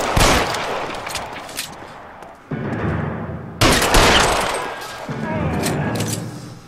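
Gunshots in LA Noire Remastered, a 1940s Los Angeles police game, crack in loud, sharp bursts and clusters. Abrupt cuts and heavy reverberant tails follow, with voices talking in between.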